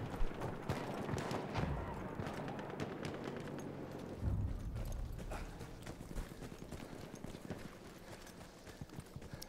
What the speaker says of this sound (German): Als ob ich dein Pferd da nicht höre,